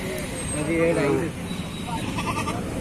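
Goats bleating at a weekly tribal market in Seethampeta, with a few calls rising over steady crowd chatter and people talking close by.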